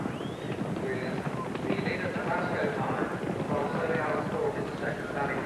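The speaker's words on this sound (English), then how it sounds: "And the riderless horse there is Master Smudge." Racehorses galloping through a 1983 National Hunt handicap steeplechase at Cheltenham racecourse, with a riderless horse among the field; a steady drum of hoofbeats runs throughout beneath a continuous race commentary voice.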